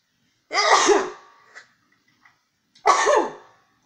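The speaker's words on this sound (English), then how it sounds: "I have to sneeze." Two loud, close sneezes about two seconds apart, each a sharp explosive burst, with a faint breath or sniff between them.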